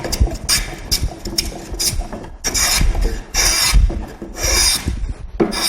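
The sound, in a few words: scrub plane cutting curve on wood edge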